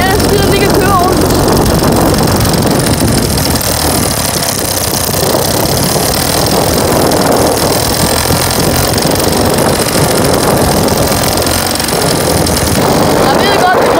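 A worn Danish moped engine that shakes badly runs steadily close by, a loud, continuous buzzing rattle with no clear pauses, and a voice talks over it throughout.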